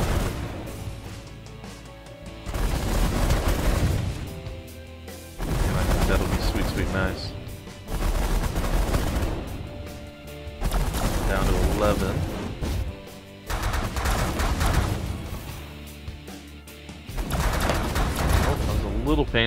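Minigun fire in The Last Federation, a space strategy game, comes in loud sustained bursts of a few seconds each, separated by short lulls, with a dense, rattling roar throughout.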